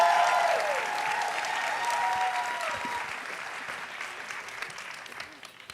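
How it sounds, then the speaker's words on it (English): Audience applause at a Moth storytelling event fills the room with steady, dense clapping that slowly fades, with a few cheers and whoops near the start. "keep that applause going. Make it big and loud"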